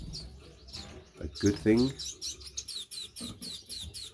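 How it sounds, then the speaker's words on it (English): Several small blackhead birds chirp and tweet in a birdshed, with a cock among them; a steady run of bright, close calls repeats through the second half, following a voice speaking over the start. "we've got two birds in here, both blackheads"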